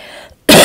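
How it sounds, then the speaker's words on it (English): A single sharp, loud cough bursts out close by after a moment of quiet. "I will be so glad when I stop coughing"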